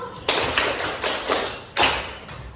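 Students in an Indonesian classroom clap in unison during a counting clap chant, four separate crisp group claps spaced about half a second apart, fairly loud and close.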